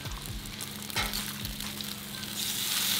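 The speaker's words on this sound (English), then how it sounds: "So, let's go ahead and flip our bacon." Bacon strips sizzle steadily in a hot pan while being flipped, a dense continuous crackle with a few louder thuds and spatters of the strips being turned, close and fairly loud, with no talking.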